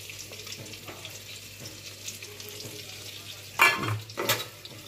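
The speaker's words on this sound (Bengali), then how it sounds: "দেখ এখন এই ফুলকপি আলু ভাজাটা ছেড়ে দেবো। বাবা ছিটে পড়ছে গো" Fried cauliflower and potato pieces go into a pot of nearly cooked rice and lentil khichuri, starting with a low background sizzle and rising to two loud, splattering bursts near the end.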